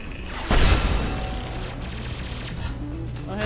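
Dense, rapid automatic gunfire in the sci-fi shooter Mass Effect 2 crackles continuously and close. A heavy impact opens the burst, and the firing keeps up steadily without speech.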